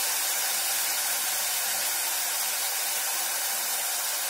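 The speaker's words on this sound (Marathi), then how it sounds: "अगदी मंदाचे वरती आपण हे कांदा परतून घ्यायचा आहे" Onions sautéing in oil in a pan over low heat for chhole bhature, giving a steady, loud, continuous hiss and sizzle that stays even throughout.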